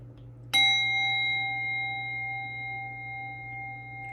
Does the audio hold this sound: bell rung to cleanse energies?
yes